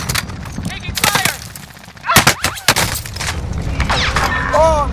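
Bursts of rapid gunfire and a few heavier booms ring out in a multiplayer shooter game, loud and close, with sharp transients clustered mid-clip and game effects around them.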